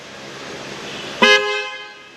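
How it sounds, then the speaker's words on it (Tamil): A newly fitted car horn gives one short, loud, bright honk after a stretch of quiet background hum, then fades out. "ஓகே கைஸ், ஹார்ன் ஃபிக்ஸ் பண்ணியாச்சு. இப்போ சவுண்டு கேளுங்க."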